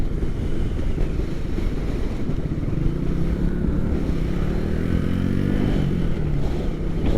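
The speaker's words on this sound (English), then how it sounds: "It is very windy. Oh my God, I'm getting blown over." Strong coastal wind buffets a microphone while riding a bike at Point Reyes, California, a continuous heavy low roar and rumble with a faint whine rising underneath, no speech.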